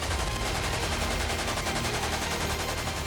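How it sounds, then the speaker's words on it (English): Continuous, dense gunfire in combat at the Battle of Tal Afar, a rapid relentless stream of shots blurring together into a loud, unbroken roar. "The constant sound of gunfire"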